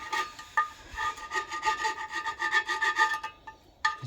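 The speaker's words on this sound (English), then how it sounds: "So scrape the worst off with this." A scraper working old residue off the fuel tank of a 1913 Richard Hornsby portable engine, a close, steady run of harsh, rasping back-and-forth strokes with brief pauses and no talk.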